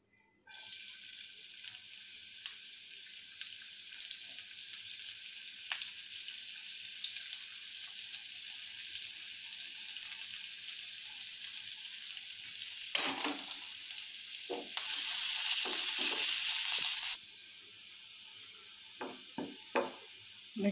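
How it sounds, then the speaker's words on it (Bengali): Chopped onion and garlic fry in oil with a steady hissing sizzle that swells louder for a couple of seconds near the end, with a few light knocks. "আমি এর মাঝে পেঁয়াজ কুচি এবং রসুন কুচি তেলে ভেজে নিচ্ছি"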